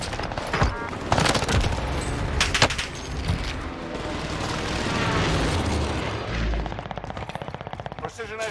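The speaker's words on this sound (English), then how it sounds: "Precision airstrike missed." Precision airstrike explosions in Call of Duty Vanguard Warzone on Rebirth Island, loud rolling booms and rapid blasts stacked with gunfire, building into a sustained rumble before trailing off.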